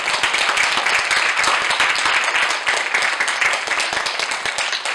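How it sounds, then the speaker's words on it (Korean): A church congregation at a Korean staff dedication service breaks into loud, sustained applause, dense clapping filling the room for several seconds with a few voices faintly beneath. "우리 박수로 모시도록"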